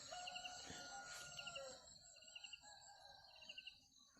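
A rooster crows loudly in a long drawn-out call at dawn on a rural Thai farm, followed by quieter clucking and repeated high chirping insects in the background.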